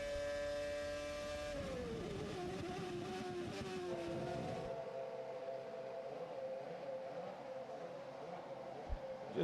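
A Red Bull RBR Formula 1 car with a Ferrari engine drives a practice session at the 2006 German Grand Prix. The engine holds a loud, steady high whine, drops in pitch as the car shifts down, then settles into a rougher drone.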